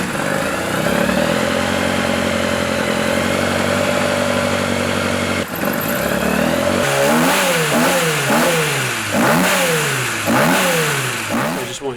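An A-series race engine with a start button in the engine bay idles loudly and steadily, then breaks into a run of sharp, repeated revs that climb and fall several times, close up and with no talk.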